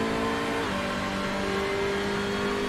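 Race car engine in a Silverstone sim racing game held on steady throttle, a loud continuous drone with a smooth upshift partway through, then rising pitch again; no talking.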